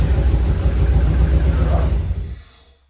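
Mazda Miata engine right after an engine bay wash: a loud, rough, rumbling run with low throbbing that dies away and cuts out about two and a half seconds in, leaving near silence.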